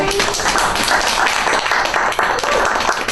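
An audience gives a round of applause at a hosted event at the York Emporium, a dense, loud, steady wash of many hands clapping that fills the whole stretch without a break.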